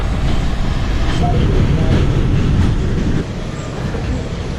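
A New York City subway train rumbles steadily at close range, a loud continuous roar of wheels and motor that eases slightly near the end.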